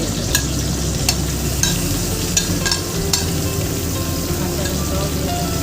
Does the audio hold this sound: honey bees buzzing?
no